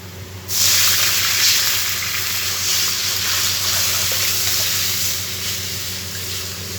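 Masoor dal is poured into a hot pan and erupts at once into a loud, steady, hissing sizzle that keeps going evenly for several seconds, close up and with no talk.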